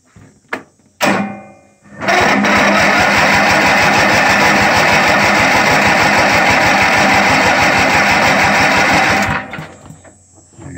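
Yard King lawn tractor engine cranking with a few short bursts, then catching and running loud and steady with a fast rhythmic chug for about seven seconds before cutting off.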